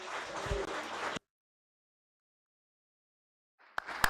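A short burst of clapping from an audience at an international biodiversity conservation forum session, loud for about a second before cutting to silence, with faint sounds returning at the end.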